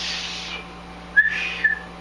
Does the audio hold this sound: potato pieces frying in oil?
no